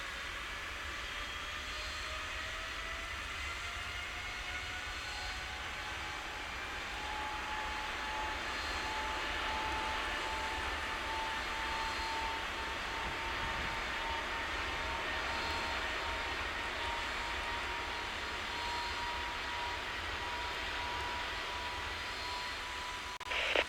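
A giant heavy cargo jet takes off from runway 27 at Cincinnati airport in the air traffic control game Tower! Simulator 3. Its engines roar steadily and evenly for over twenty seconds, with a slowly rising whine.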